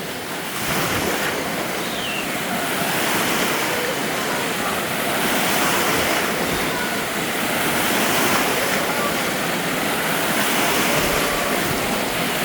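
Loud, continuous churning water surges in slow swells, a steady roar of waves rolling and breaking nearby in an indoor wave pool at the Zsóry thermal complex in Mezőkövesd, Hungary, with no voices.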